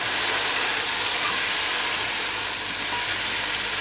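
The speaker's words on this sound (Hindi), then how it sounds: "यहाँ पे हमने जो चिकन के पीस अलग किए थे वो डाल देंगे। और हाई फ्लेम पे इसकी हम भुनाई कर लेंगे 1 से 2 मिनट के लिए।" Chicken pieces fry in a pan over high flame, giving a steady, loud, close hiss and sizzle that holds evenly throughout with no talking.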